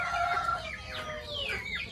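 A Rhode Island Red chicken about two to three months old, sick with coryza, gives a few quick, raspy clucks and squawks close by, one after another.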